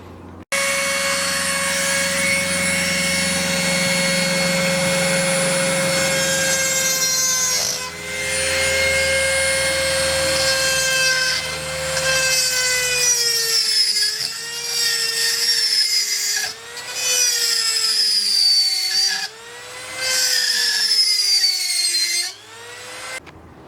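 A metal reclining seat channel on a Toyota Tercel wagon is shaved down with a hand tool, giving a loud, steady rasping grind that runs in long strokes with brief pauses, harsh and continuous close to the microphone.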